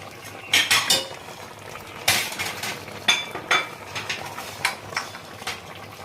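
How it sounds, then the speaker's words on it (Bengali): Fried lentil dumplings stirred into a bitter gourd curry, with a metal spoon scraping and clinking against the pot in a series of sharp, close knocks and rattles between quieter pauses. "এরপরে দিলাম ভেজে রাখা বড়িগুলো"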